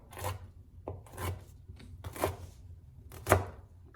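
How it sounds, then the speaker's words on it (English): A knife slices fungus strip mushroom into short pieces on a cutting board, giving four or five soft, spaced chopping strokes, close and fairly quiet. "Slice the fungus strip mushroom into short pieces."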